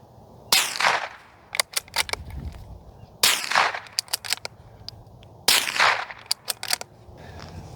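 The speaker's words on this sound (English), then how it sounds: "Out of everything that I own, 22 long rifle suppressed" Three suppressed .22 Long Rifle shots through a Dead Air Mask suppressor, each a sharp, moderately loud crack spaced a couple of seconds apart, followed by the clicks and clatter of the action cycling, with no talking.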